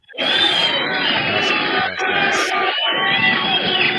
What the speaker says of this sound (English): There's my crowd.